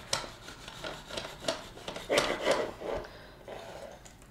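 A bread knife saws through a homemade honey oat loaf in uneven back-and-forth strokes, a close, crumbly rasping that swells and fades with each pass.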